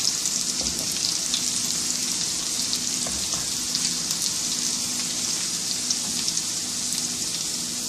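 Garlic frying in oil in a pan gives a constant bright sizzle with small crackles and pops, close and moderately quiet, and a few light stirring clinks, with no voices.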